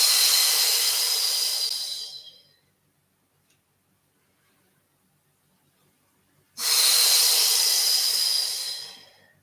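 Deep, audible yoga breaths come as two long, loud, airy rushes close to the listener, with a quiet pause between them.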